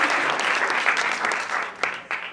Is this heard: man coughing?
no